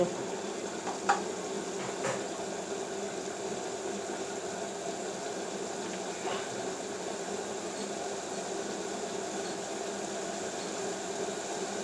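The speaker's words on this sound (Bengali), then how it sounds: "কাটা রাখা আলু কাঁঠাল দানাগুলো দিয়ে দেবো ভালো করে নেড়ে ছেড়ে" Cut potatoes and jackfruit seeds stirred into frying onion and spice masala in oil, heard as a continuous low sizzle with a few faint scrapes of a spatula early on, steady and even.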